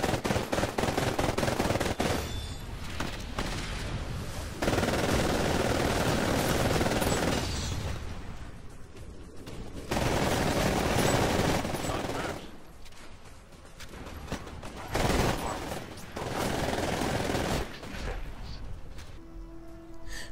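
Bursts of rapid automatic fire from the R97 submachine gun in the video game Titanfall, several loud sustained volleys separated by short pauses, with game sounds between them.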